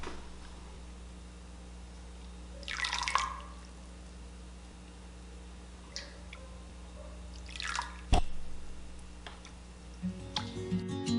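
Delphinium Blue dye dripping back off dipped fabric, a few scattered, soft drips and small splashes separated by quiet, with a sharper drop near the end.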